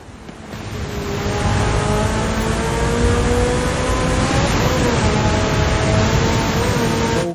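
A 2019 Porsche Carrera S engine in Forza Horizon 5 revs loudly and steadily, its rising and falling harmonic tones running throughout, with no talk over it.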